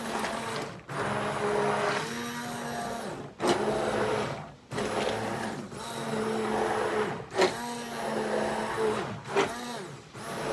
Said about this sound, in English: I got my immersion blender here.